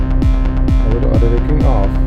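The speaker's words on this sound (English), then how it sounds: "So this is with auto ducking on" A loud FL Studio Mobile beat plays with auto ducking on: booming kicks with falling pitch land about every half second over sustained synth tones, with no speech.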